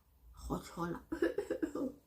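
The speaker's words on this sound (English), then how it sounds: "Gotlola, cough. I am coughing." A person coughs close by, a few harsh bursts followed by a quick run of short, rhythmic coughs.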